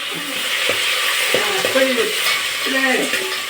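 Tempering spices sizzle steadily in a hot pan in a Telugu home kitchen while a spoon stirs, with several scraping strokes and small pops over a constant close frying hiss.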